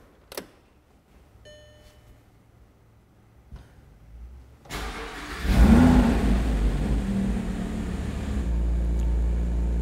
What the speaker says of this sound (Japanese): それではエンジンを始動させていきます。